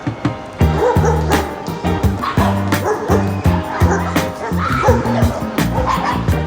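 Several dogs bark and yip repeatedly in a busy, overlapping chorus in Harajuku, Tokyo, loud and close, with brief background voices.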